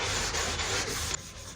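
Steady abrasive sanding on a Peterbilt 389 truck hood, close and continuous with slight rhythmic strokes, cutting off abruptly near the end to a quieter scrape.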